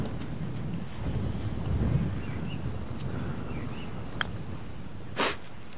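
Wind gusting across an open golf course buffets the microphone with a low, rumbling roar that swells and eases, plus a couple of brief sharp clicks near the end; no one speaks.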